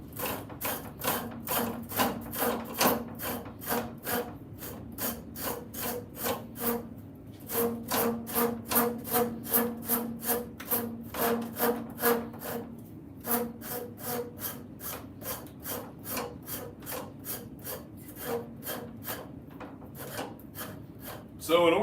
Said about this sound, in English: you get your rasp, your half round rasp, and you're just going to take it and run it inside that corner